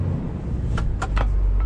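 A car driven slowly at night over rough, rocky ground, straining up an incline with a low, heavy engine rumble and a few sharp knocks or clunks midway through.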